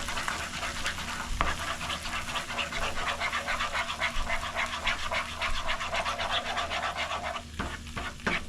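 Eggs stirred in a hot pan, with a steady scraping and sizzling texture running throughout at close range, no talking over it.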